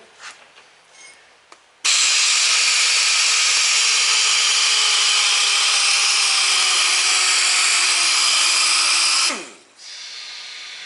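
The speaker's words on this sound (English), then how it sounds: "Take your DA, grab a piece of Scotch-Brite and put on there." Dual-action sander fitted with a Scotch-Brite pad works the shellac or varnish finish on an antique double-barrel shotgun, a loud steady whir running about seven seconds before spinning down, with quiet handling noises before it.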